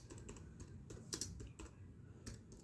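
HTML code being typed on a computer keyboard: a quiet, close run of irregular key clicks with a few sharper presses, no voices.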